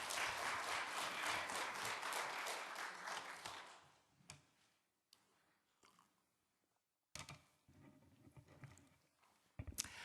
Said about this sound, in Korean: 하나님께 영광 돌리고 뜨거운 박수로 한번